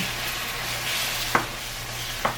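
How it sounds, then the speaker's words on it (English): Parsad mixture of flour and cream of wheat, dairy free, stirred in a pan: a steady scraping, sizzling hiss with two sharper knocks of the spoon, close and alone. "Mix, mix, mix."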